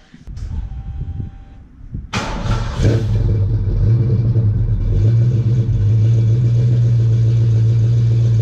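A Ford Mustang engine starts up and settles into a steady, loud, close idle rumble while the car is moved out of a garage, following some handling noise.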